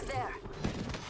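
Gunfire in the battle royale game Apex Legends crackles in a short burst of several shots, mid-distance and moderately loud, mixed with game ambience and a voice talking over it.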